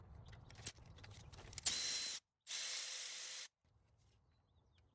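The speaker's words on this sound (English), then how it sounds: "I'm going to disconnect the clamp right here, and it's held with a 10mm bolt." Ratchet clicks on a 10mm clamp bolt on a Toyota Tundra 5.7L V8, then two loud, steady hissing bursts of about half a second and one second, followed by quiet.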